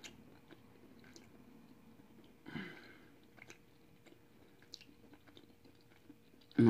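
Someone eats squid pieces cooked in their own ink, with soft, quiet chewing and wet squishy bites close to the mic, plus a slightly louder bite partway through and a sharp knock at the end.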